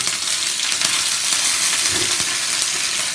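Curry leaves sizzling in hot oil in a pan while mutton chukka is cooked with fennel, giving a loud, steady, crackling fry hiss throughout with no voices.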